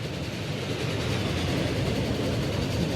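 Steam trains running in the video game Transport Fever 2, a steady dense rumble and rolling rail noise that holds loud and even throughout, with no talking.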